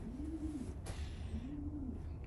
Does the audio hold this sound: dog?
no